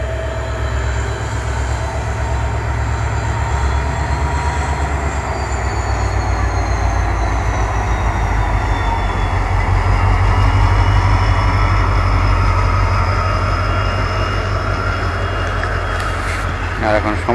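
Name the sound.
New Bongaigaon–Guwahati passenger train passing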